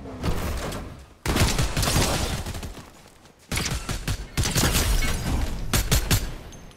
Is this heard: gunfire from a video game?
yes